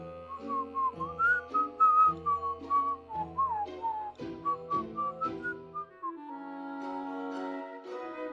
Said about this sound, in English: Who even whistles these days?